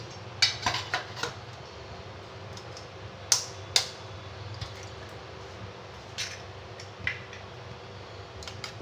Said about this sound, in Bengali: এবার আমি ডিমটাকে ফেটিয়ে নেব